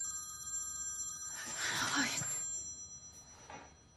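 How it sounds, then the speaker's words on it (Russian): An incoming video call rings on a phone in a house, a bright electronic ringtone in bursts over a quiet steady background hum, while a person speaks over part of it. "мама звонит по видеозвонку"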